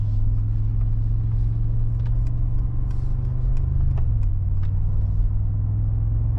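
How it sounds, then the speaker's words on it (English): Deep, steady engine rumble from a 2025 Mercedes-AMG G63 driving on summer tires, a constant low drone close inside the cabin with a slight shift in pitch midway and no talking. "Can you hear this rumble? It's still here, and it's really good."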